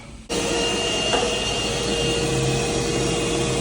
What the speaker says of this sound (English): So, hoover it all up.